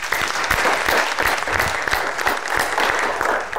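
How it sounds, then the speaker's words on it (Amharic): An audience claps for a group of children at a festive gathering, steady dense applause filling the whole stretch at close range, with a few sharper individual claps standing out. "አጨብጭቡ ለራሳችሁ"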